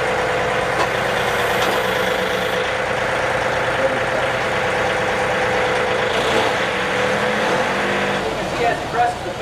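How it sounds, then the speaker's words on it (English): A John Deere utility tractor engine runs steadily and loudly throughout as the pedal is pressed, its revving rising and holding with a continuous mechanical drone. "As he presses the pedal, you hear the engine revving up as well"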